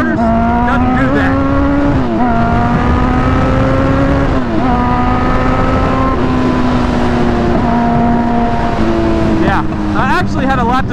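A 1994 Honda CBR 900RR Fireblade motorcycle with straight pipes roars loudly and close, its engine note holding steady and then shifting through gear changes, with wind rushing throughout and a voice faintly under it.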